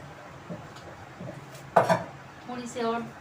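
Small pickle pieces are stirred into a pot for homemade achar, with soft scraping and then a sharper metallic clink from the spoon against the pot, while a voice speaks quietly in the background.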